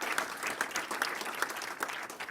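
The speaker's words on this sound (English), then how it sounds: "And I ask the room to applaud for him." A conference room audience gives soft, fairly distant applause, a steady patter of many hands without any voices on top.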